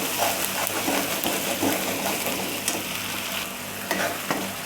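Spice masala for a surmai fish curry fries in hot oil, giving a steady crackling sizzle with occasional stirring scrapes and pops. The sound is close, continuous and free of voices.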